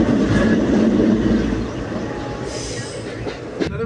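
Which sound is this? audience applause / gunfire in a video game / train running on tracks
train running on tracks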